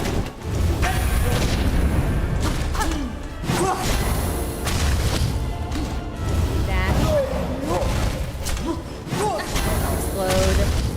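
Explosions in a video game boss fight boom repeatedly with swooshes and thuds, forming a dense, loud, layered stream of blasts.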